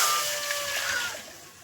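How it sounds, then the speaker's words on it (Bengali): Water poured into a kadai set on a lit stove, a broad splashing hiss that starts loud and tapers off over a couple of seconds, with no voices. "কড়াও বসিয়ে দিয়েছি, জল দিয়ে দিচ্ছি।"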